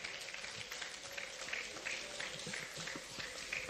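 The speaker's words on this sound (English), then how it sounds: "a round of applause once again for the Honorable Minister" A crowd applauds the Honorable Minister at a ministerial press briefing, with steady dense clapping running the whole time at moderate loudness.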